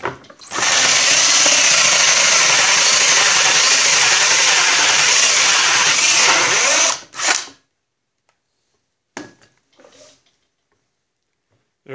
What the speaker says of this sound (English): we're going to drill that out